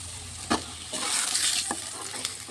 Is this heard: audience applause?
no